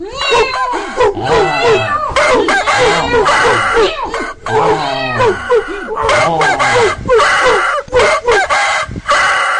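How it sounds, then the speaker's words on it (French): A rooster crows loudly and repeatedly among barnyard animal cries, including cat-like yowls, in a dense, near chorus that lasts the whole time. "le coq dominait le tout de coquericots éclatants"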